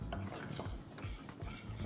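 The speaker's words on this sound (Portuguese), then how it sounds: "E já misturando também o fermento em pó" A spoon stirs dry cornmeal and baking powder together in a pan, giving a continuous close scraping and rustling with soft clinks, no voices.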